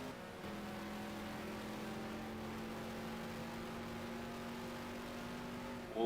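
1969-era racing cars in a Nordic Challenge Cup sim race at Mantorp Park, a steady high engine drone holding one pitch, then a sharp rise in loudness right at the end.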